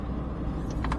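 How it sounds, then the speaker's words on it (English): The naturally aspirated 3-cylinder engine of a 2007 Smart ForTwo hums low and steady from inside the car while driving, with a couple of faint short clicks near the end. "It's a 3-cylinder engine, naturally aspirated, so no turbochargers."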